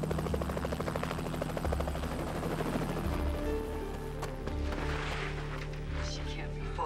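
A helicopter drones steadily overhead in a dry outdoor search setting, its rotor throb and engine whine continuous and fairly loud throughout, a low pulsing chop layered under a higher turbine hum.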